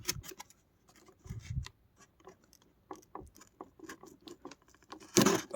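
Scissors snip and slice through packing tape on a Tao Pai Pai figurine box, close up, with scattered crisp clicks and rustles and a louder crackling burst near the end.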